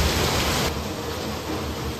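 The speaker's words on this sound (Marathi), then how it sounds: "भरपूरच पाऊस आहे" Heavy rain falls in a thick, constant roar that eases slightly partway through but keeps going, close and steady with no one talking.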